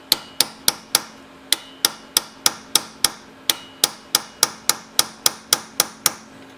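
Sharp metallic hammer blows driving a drift pin into a Brownwall hit and miss engine under restoration, about twenty evenly spaced ringing strikes with brief pauses, close and loud, no talking.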